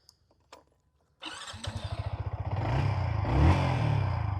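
A Yamaha XSR 155 motorcycle engine cranks and fires after a few faint clicks, then settles into a steady, close, fairly loud idle with a quick pulsing beat that swells slightly.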